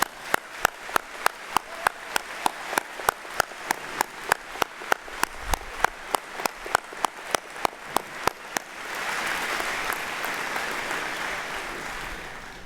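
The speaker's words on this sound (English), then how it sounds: "join me in a round of applause for our graduands." Steady, rhythmic hand claps ring out at a university convocation, then swell into broad applause from a crowd for graduands for the last few seconds.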